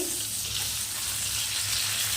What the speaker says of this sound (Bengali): এই মাছগুলো চার থেকে পাঁচ মিনিট খুব ভালো করে ভেজে নিতে হবে